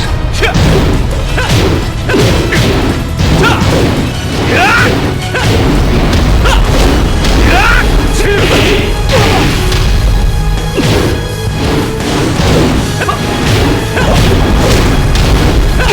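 Tekken 8 fight between Hwoarang and Feng on hard mode: dense, loud strikes, crashes and whooshing hits pile up continuously over a busy game soundtrack throughout.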